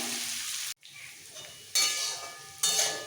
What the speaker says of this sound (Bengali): এবার একদম লাল করে ভাজবো